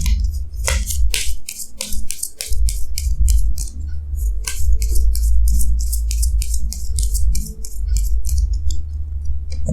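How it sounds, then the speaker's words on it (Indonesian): Tarot cards being drawn and shuffled produce rapid, crisp snapping and flicking sounds close up, a busy run of sharp paper clicks over a low background hum with no talking. "Jadi sini saya akan tarik lagi 2 kartu tambahan ya."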